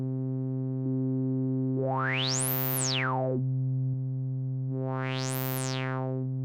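Synthmaster 3 synth patch held as a steady tone while its filter resonance sweeps up and down twice, rising to a bright peak and falling back, a smooth electronic whistle riding over a sustained low drone.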